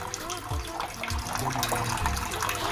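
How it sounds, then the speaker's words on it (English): Water pours and splashes into a container close by, a running, gurgling stream with a faint voice in the background. "So you need to first take water in a container"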